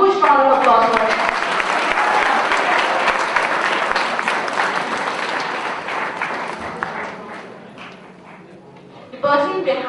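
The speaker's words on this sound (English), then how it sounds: "Can we have a huge round of applause for him?" Audience applause at a business event, dense broadband clapping sustained for most of the span, easing off near the end before a short renewed burst; cheering voices mixed in.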